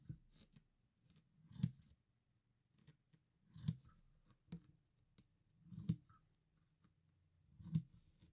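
Four or five crisp, sharp scissor snips trimming a knitted scarf's yarn fringe at steady intervals, close and fairly quiet, with faint clicks in between and no talking.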